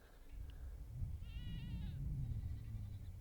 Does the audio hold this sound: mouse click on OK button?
no